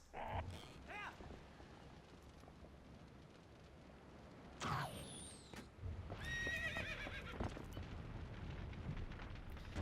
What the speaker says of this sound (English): I don't think Epona will jump over that fire